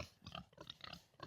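Pigs on a ranch grunt and oink in a busy, overlapping run of short snorty calls, fairly close and moderately loud throughout.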